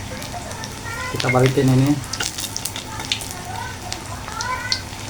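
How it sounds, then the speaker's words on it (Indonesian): Rengginang rice crackers frying in hot oil, a steady sizzle running throughout while a person speaks briefly over it. "Rengginangnya kita goreng."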